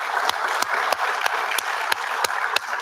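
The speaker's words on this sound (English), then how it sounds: "So give our panelists a round of applause." Conference audience applauding panelists at the close of a session, steady dense applause with a few sharper distinct claps standing out, moderately loud and without talk.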